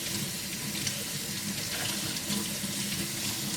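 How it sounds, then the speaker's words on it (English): Running kitchen tap water splashes steadily over hands being washed with soap, a close, continuous rushing stream with faint rubbing, no voices. "I'm gonna wash my hands first,"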